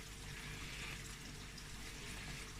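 Small aquarium pump emptying yellow-tinged water out of a garden pond, a steady faint trickling and gurgling wash that runs continuously without pause.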